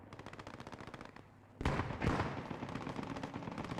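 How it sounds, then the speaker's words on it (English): Aircraft strafing-run gunfire in the WWII game Post Scriptum: a rapid stream of automatic shots, then a louder burst of heavy firing and impacts that keeps rattling on. "A strafe run going down there."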